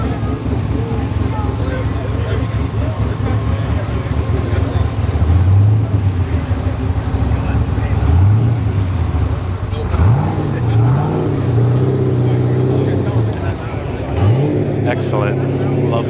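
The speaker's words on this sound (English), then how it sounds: "the Ultima's leaving. Maybe I'll catch it while it's driving." Ultima supercar pulling away from a night car meet, engine revving in several rising sweeps over a steady low drone, fairly loud amid crowd chatter and people talking nearby.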